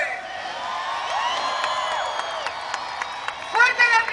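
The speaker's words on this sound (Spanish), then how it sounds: "Fuerte el aplauso para comenzar con Monster Showdown" Grandstand crowd at a Monterrey monster truck show claps, whoops and whistles in a continuous roar, with sharper bursts of cheering near the end.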